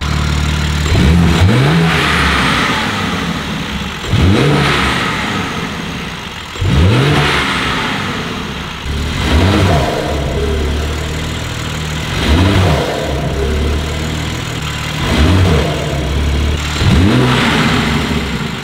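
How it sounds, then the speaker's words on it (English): A BMW G8X M3/M4 fitted with an Eventuri carbon intake, stationary, is revved repeatedly: six sharp throttle blips about every 2.5 seconds, each rising and falling over a steady idle rumble, loud and close with no talking. "we're gonna go ahead and start the car for you guys so you guys can hear the intakes and how they sound"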